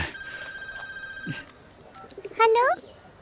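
A telephone in a home rings with a steady electronic tone for over a second, then a brief warbling ring later. Voices are heard between the rings.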